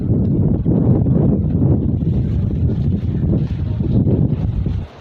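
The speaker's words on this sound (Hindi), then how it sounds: "हवा आज बहुत तेज़ चल रही है" Strong wind buffets the microphone with a loud, continuous low roar and gusty rumble, no talking.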